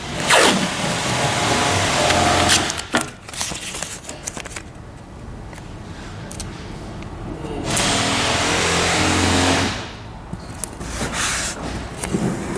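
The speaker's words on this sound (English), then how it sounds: "we're going to tape these 2 edges" Tape pulls off a roll and is pressed along the edges of a 2017 Audi Q bumper fascia in long, loud ripping bursts, with quieter rustling and handling between them.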